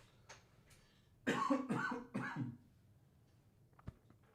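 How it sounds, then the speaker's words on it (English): A short burst of three or four harsh coughs close by, followed by quiet and a faint click. "I'm holding in my coughs."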